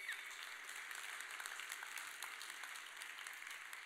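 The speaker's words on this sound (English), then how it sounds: "Give them a round of applause, too, as well." A foundation gathering's audience applauds in a fairly soft, even wash of many clapping hands, steady throughout with no speech over it.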